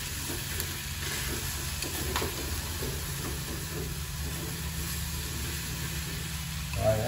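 Lemongrass sizzles steadily while stir-fried in a pan for Vietnamese sour soup, a continuous crackling hiss with faint stirring scrapes, fairly close and heard alone.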